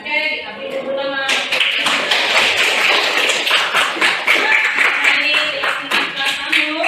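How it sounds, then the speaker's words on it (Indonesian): A high school class, X MIPA 2 at SMA Negeri 1 Rambah Samo, bursts into dense, sustained hand clapping close by that fills the room after a brief spoken line at the start. "Oke, kita beri tepuk tangan."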